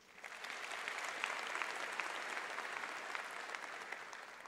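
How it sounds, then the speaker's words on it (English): Steady applause from a group rises quickly and holds evenly for a few seconds at a fairly quiet, distant level, with no voices over it. "I think they all deserve a round of applause."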